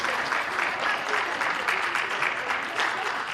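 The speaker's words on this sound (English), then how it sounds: "A lot of cheering from the parents in attendance here for the seniors" Parents at a girls' high school basketball game cheer and clap steadily for the seniors as they check out, a continuous moderate wash of applause from the stands with scattered shouts.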